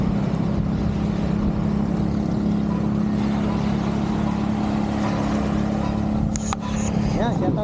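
A motor runs on a sandy beach by the sea, a loud, steady, low droning hum that continues unbroken throughout.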